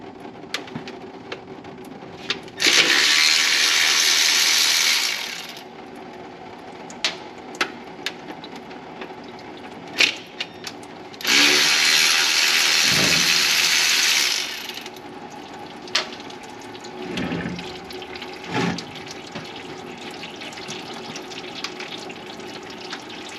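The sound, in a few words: dropping the transmission pan of a 2006 Chevy Express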